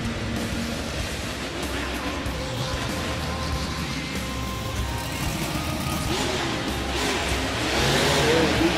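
A-J's monster truck Bulldozer at a freestyle event in Toronto, its engine roaring and revving loudly and steadily throughout, swelling slightly toward the end over a broad wash of arena noise.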